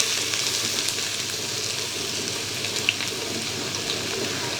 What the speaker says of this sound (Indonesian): kita tumis bawangnya